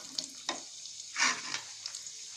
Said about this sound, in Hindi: इसी में हम डाल देंगे 1 इलायची, इसको मैंने तोड़ दिया है, लौंग और दालचीनी। कुछ सेकंड के लिए भून लेंगे इन्हें हम।